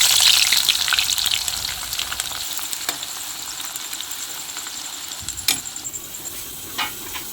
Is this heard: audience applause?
no